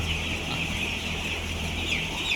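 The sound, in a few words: chicks peeping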